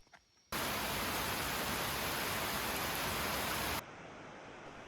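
Heavy tropical rain pours down in the Borneo jungle, a dense, steady roar that cuts in abruptly after a brief quiet moment and holds at full strength before dropping to a softer hiss.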